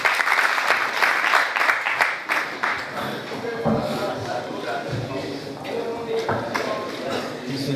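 An audience claps steadily at a 2014 oath ceremony and mushaira poetry gathering, with dense applause that thins slightly toward the end while a voice talks over it.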